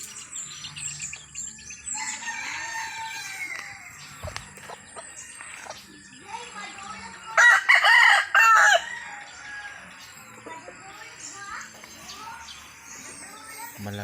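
Chickens, including a gold-hatched brood hen's flock, cluck and chirp throughout in a yard, then a rooster crows loudly in the middle, with people talking in the background.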